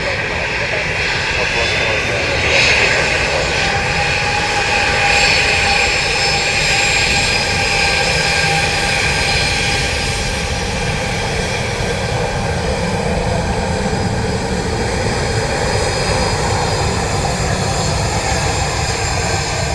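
Steady roar of an aircraft landing at Dublin Airport in strong wind, a loud continuous engine and wind rumble holding for the whole stretch, with voices faintly under it.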